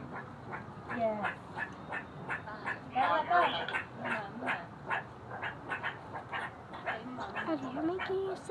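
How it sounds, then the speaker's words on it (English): A group of meerkats being fed give rapid, high, yappy barking calls in bursts, close and fairly faint, with people talking among them. "They're barking."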